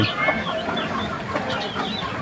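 A Rhode Island Red rooster clucks in a farmyard, several short calls scattered over a steady, fairly loud background of other fowl noise, with no clear pauses.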